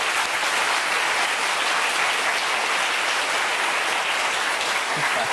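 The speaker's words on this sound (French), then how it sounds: "qu'on applaudit tout de suite" A television studio audience applauds a guest, the underwater photographer Laurent Ballesta, on a French Sunday talk show: dense, steady clapping from many hands, close and loud throughout with no voices over it.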